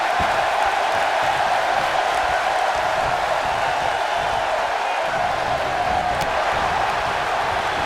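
A wrestling video game crowd cheers in a steady, loud roar that holds through the whole stretch, with no speech on top.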